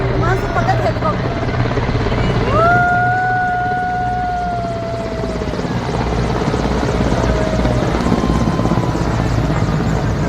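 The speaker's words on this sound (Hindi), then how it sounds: "फूलों से हेलीकॉप्टर के द्वारा स्वागत करते हुए" An Indian Air Force helicopter flies over the Republic Day parade at India Gate, dropping flowers. Its rotor roar is continuous and loud, and a thin whistling tone glides briefly above it.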